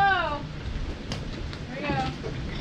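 A hailstorm during wild Colorado weather, with a steady patter of ice pellets striking surfaces throughout while voices call out and exclaim over it.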